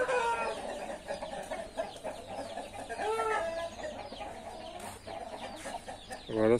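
Several hens and young pullets cluck and chatter close by, with a rooster-like call near the end, over steady farmyard background noise.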